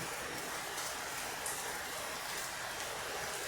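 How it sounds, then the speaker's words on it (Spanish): Steady broadband hiss of summer rain falling in Buenos Aires, constant and enveloping with no distinct drops or voices. "la lluvia de verano está acá en Buenos Aires"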